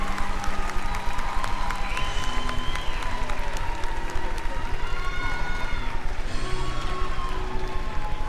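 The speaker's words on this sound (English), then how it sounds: "Another big round of applause for all four of them, ladies and gentlemen" Steady, dense audience applause in an arena at a Delaware State Fair livestock show, continuous clapping filling the space from start to finish, with a loudspeaker voice talking over it.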